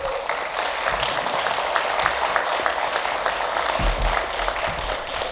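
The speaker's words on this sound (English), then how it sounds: "let's have another round of applause for all the athletes who are being honored." Dense, sustained applause from an audience honoring athletes at a school Athlete of the Year award ceremony, a continuous crowd roar of many hands clapping at once, close and loud throughout.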